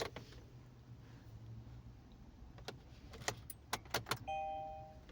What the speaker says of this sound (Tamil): ஃபஸ்ட்டு சாவியை ஆன் பண்ணிக்குவோம்.